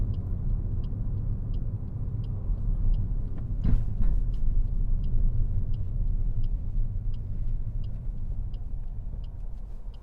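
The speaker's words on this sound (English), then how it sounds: "Keep the engine on the run. Don't switch off the engine." A car's engine idles steadily while stopped during a driving lesson in traffic, a low continuous rumble with a faint regular ticking on top and one brief sharper noise partway through.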